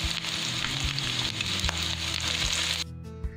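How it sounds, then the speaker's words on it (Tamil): Curry leaves and coriander fry and are stirred in a pan for a chicken and potato curry masala, with a steady close sizzle and occasional scraping stirs. The sizzle drops away near the end. "இப்போது கருவேப்பிலை கொத்தமல்லி போட்டு கிண்டிக்கலாம்."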